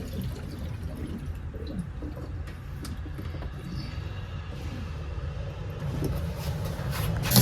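Water rushes steadily through a Whirlpool water softener as its bypass valve is slowly opened during a home installation, a continuous low, broad flow that swells slightly toward the end.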